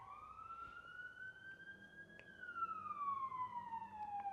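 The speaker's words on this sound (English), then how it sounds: "wait, there's an ambulance." An ambulance siren sweeps steadily up and then down in pitch as it passes, loud and continuous throughout with faint background noise.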